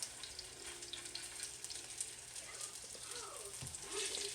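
Grass-fed beef fat and canola oil sizzle softly and steadily in a pan, a faint, even crackle with occasional light pops.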